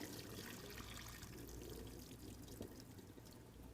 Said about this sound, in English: Once they're tender, we drain them really well